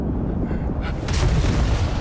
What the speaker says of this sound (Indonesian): Tapi setelah itu terjadi ledakan beruntun di Gunung Bara Api